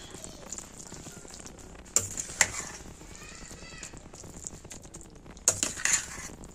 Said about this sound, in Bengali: এইবারে আমি হচ্ছে মিক্সড করে দেবো এটাকে